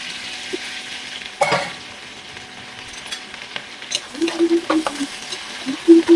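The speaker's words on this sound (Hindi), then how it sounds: "सबसे पहले हम भिंडी फ्राई करेंगे।" Okra sizzles and fries in hot oil in a home kitchen, a steady crackle with stirring scrapes and light clinks of a utensil against the pan, close and fairly loud.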